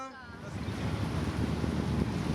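Ocean surf breaking at Teahupo'o, the famous reef surf spot in Tahiti, a steady broadband roar of waves with wind buffeting the microphone, continuous and fairly loud throughout.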